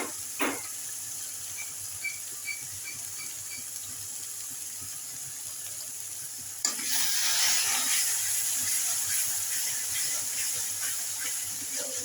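Spices sizzle and fry in a hot pan with a steady hiss, briefly stirred near the start, then a louder burst of sizzling partway through that continues to the end.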